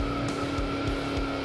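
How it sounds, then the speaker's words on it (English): Two 2020 Shelby GT500 Mustangs, the Green Hornet and Little Red, doing burnouts on a track: a steady loud engine drone with a sustained tire roar and a rhythmic low pulsing throughout. "Green Hornet out on the track with Little Red to do some burnouts."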